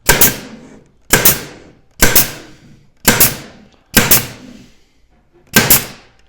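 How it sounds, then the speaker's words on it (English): A pneumatic nailer drives 3/4-inch small crown staples across the back of a cabinet drawer, giving six sharp, loud, evenly spaced shots about a second apart, each with a quick decay and no talking. "then we'll nail it across the back into the back of our drawer"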